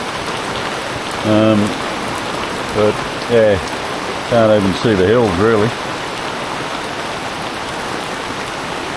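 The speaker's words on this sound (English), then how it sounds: "Very much a rainy day." Steady rain pours down on a boat under a bimini on a grey, overcast day, a continuous hiss of drops that runs through the whole stretch while someone talks in short bursts over it.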